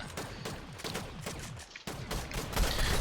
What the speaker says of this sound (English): Managed to land a few more shots on him.